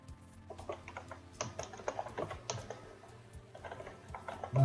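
Typing code on a computer keyboard, a close, irregular patter of light key clicks with a few quicker flurries, heard alone without voices.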